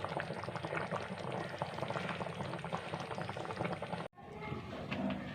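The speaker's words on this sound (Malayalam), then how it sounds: "എന്താ കറി തിളക്കണം" Curry bubbles steadily in a pot, a continuous close simmering hiss that cuts out for a moment, then resumes.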